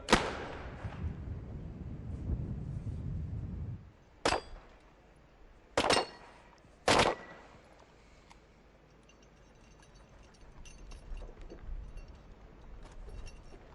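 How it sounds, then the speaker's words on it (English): Sniper rifle shots fired from the top of a tower at a SWAT competition: four sharp, loud reports spaced a second or more apart, heard outdoors with wind rumble before and after. "these sniper shots from the top of the tower"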